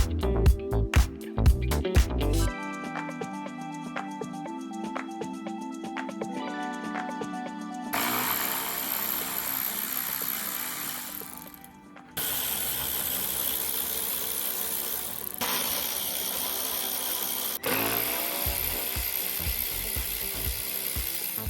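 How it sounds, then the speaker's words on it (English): Bumper screws being undone on an Audi TT with a power tool and ratchet, whirring mechanical runs in several long stretches broken by brief pauses and clicks, loud and close. "the next job after that is to unbolt these 4 screws"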